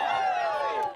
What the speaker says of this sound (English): the Blue Devils did get a really nice interception in the first half, which threw the crowd into a frenzy.